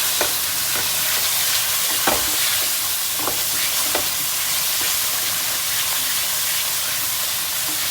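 Masala spices roasting in oil in a pan for kofta curry, giving a continuous dense sizzle and hiss with occasional soft ticks of a stirring spoon, steady and close, no voices.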